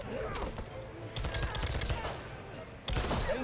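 Erron Black's revolver shots in Mortal Kombat 11 during a Combo Breaker 2022 tournament match: rapid bursts of sharp gunfire and impacts in dense game audio, loud and close, with an announcer's voice underneath.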